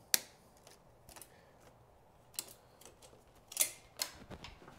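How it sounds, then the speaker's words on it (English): Snips cut a choke cable on a vintage Honda CB550 motorcycle, giving a few faint, sharp metallic clicks and snaps scattered over several seconds in a quiet space. "Thankfully, I brought snips so we can cut these off."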